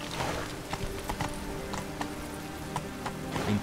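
In The Witcher 3, a horse's hooves clatter on stairs, an irregular series of sharp clip-clop hits, fairly close and moderately loud, with a soft whinny-like sound at the end.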